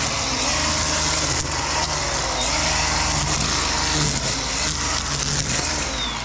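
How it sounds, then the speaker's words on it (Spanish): A DeWalt string trimmer runs on low speed while its line cuts through grass and weeds, giving a continuous close whirring buzz with a rough, gritty edge that stays steady from start to finish. "Lo único que hace ruido es el hilo que va cortando."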